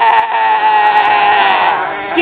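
A sheep gives one loud, close, sustained bleat lasting about two seconds.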